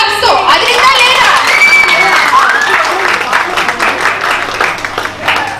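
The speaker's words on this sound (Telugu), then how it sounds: "కొంచెం క్లాప్స్ తో అదిరిందా లేదా?" A crowd at a sangeet wedding celebration claps and cheers loudly, with whoops and children shouting mixed into a sustained, lively roar that tapers slightly toward the end.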